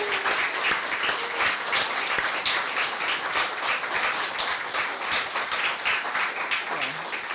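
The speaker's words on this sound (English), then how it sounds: "Maybe we'll get a round of applause for Suryaka at this point." A room of people at a Women's Mitra convenor handover ceremony claps steadily, a full sustained round of applause with a few individual claps standing out.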